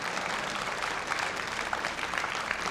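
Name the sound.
applause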